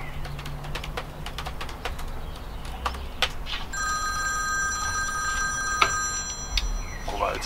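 A telephone rings with a steady electronic tone in a home office, starting partway through amid faint background sounds and a few light knocks.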